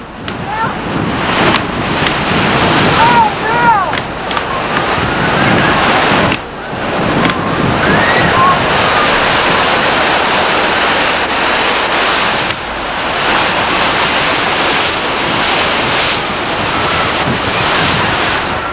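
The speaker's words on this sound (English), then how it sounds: "the torrid surf rocks the boat and rolls it onto its side" Heavy surf crashes and roars continuously at a river bar crossing as a boat is rocked and rolled onto its side, with strong wind buffeting the microphone and brief lulls between big waves.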